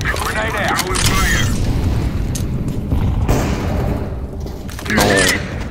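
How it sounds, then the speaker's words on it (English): A Counter-Strike grenade explodes on the Inferno map with a heavy boom amid gunfire and clanking mechanisms, close and loud, while players talk over the action. "I'm throwing a grenade."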